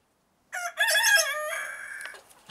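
After a moment of silence, a single loud crow from a rooster with a cold rings out close by, rising then trailing off in a long, strained note.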